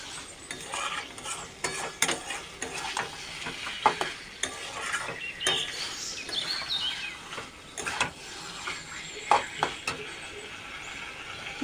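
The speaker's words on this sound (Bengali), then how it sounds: "মাংসটা অনেকক্ষণ কষাবো।" Chicken sautéed in a pan for kosha, stirred with frequent scraping and clinking of a utensil against the pan over a continuous sizzle, close and fairly loud.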